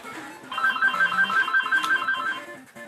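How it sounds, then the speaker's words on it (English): A phone rings with an incoming call during Mega Man 2 play, a steady repeating electronic ringtone sounding in regular pulses over a low game-music background, with no talking. "And there's a phone call."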